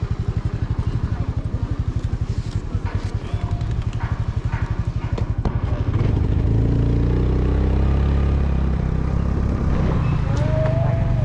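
A motorcycle taxi ride through the streets of Kathmandu, with a steady, loud engine drone and rhythmic pulsing that shifts in pitch partway through, plus street clatter and occasional passing traffic.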